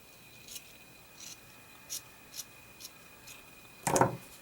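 Scissors snip at a yarn pom pom in a quiet room, sounding as sparse, close, crisp cuts spaced about a second apart, with a louder burst of handling near the end.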